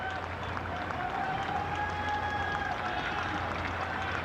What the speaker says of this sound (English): Well, big applause